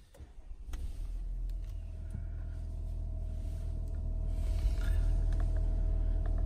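VW Touareg 3.0 TDi R-Line diesel engine starts with a brief crank, then settles into a steady, deep idle rumble heard from close by, with no one speaking.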